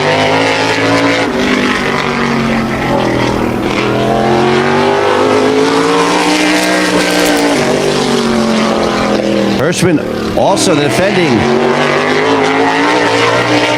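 A modified race car roars through a qualifying lap at Wall Stadium, its engine droning loud and steady with pitch shifts as it works around the track, then sharp revving changes near the end, while a commentator talks over it.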